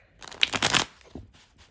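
Tarot cards are shuffled by hand in one quick riffle of crisp, papery flutters, close and fairly loud, followed by a couple of softer taps as the deck settles. No one speaks.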